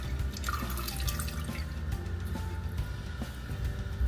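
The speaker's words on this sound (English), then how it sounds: "we got water coming out of the refill tube" Water streams from the refill tube of a toilet fill valve after the supply is turned on, a close, steady splashing trickle with irregular drips, with no talk over it.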